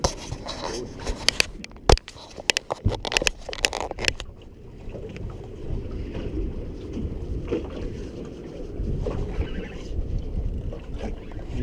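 Outboard motor on a small boat out on the water during shark fishing, a rumbling drone that rises out of wind buffeting and clatter and runs steadily to the end.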